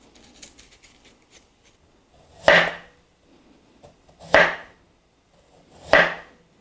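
A knife paring an onion or other vegetable in a kitchen, three crisp, distinct cuts about two seconds apart, close and clear over a quiet background.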